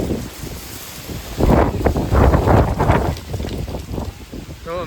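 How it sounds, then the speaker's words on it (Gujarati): A strong windstorm roars in loud buffeting gusts across the microphone, swelling in the middle and easing toward the end, with dust blowing and a voice faintly heard under it. "જો મિત્રો આ રીતનું વાવાઝોડું છે"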